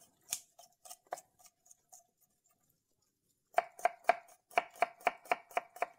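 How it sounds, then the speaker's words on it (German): Knife slicing an onion into thin strips on a board: a few scattered crisp cuts, a short pause, then a fast, regular run of close, sharp chops. "Schneiden wir die Zwiebel in schöne feine Streifen."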